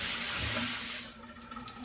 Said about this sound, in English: Very nice pressure. Very well even shower head.